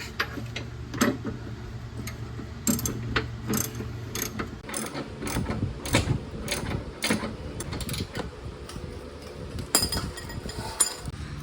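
Ratchet wrench tightening bolts on the lower control arm of a 2005 Ford Mustang 4.0 with a broken ball joint, giving close, repeated bursts of sharp ratcheting clicks with short pauses between strokes.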